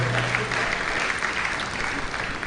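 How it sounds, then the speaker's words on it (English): Steady applause from a seminar audience, dense clapping throughout, fairly close and even in loudness. "Please, a round of applause for them."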